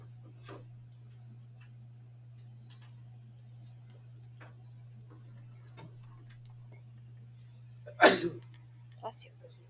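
A single sharp sneeze bursts out near the end of a quiet room, followed by a few smaller noises.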